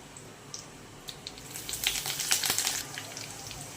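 Crushed green chilli thecha with garlic and curry leaves is sautéed in a pan, giving a soft hiss that grows into louder crackling and spitting sizzles partway through, heard close up and without any voices.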